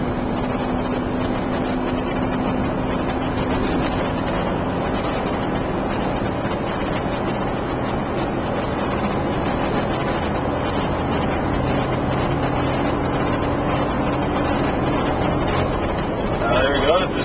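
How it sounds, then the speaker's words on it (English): A vehicle engine drones on after an upshift to a higher gear, a steady low rumble at lower revs that runs continuously under the ride noise. "Now I just shifted up a gear. Now the RPMs are lower"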